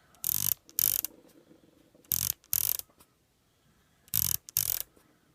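An SWFA adjustable zero stop scope turret is spun by hand in three short paired bursts of rapid ratcheting clicks, close and crisp, with quiet pauses between turns.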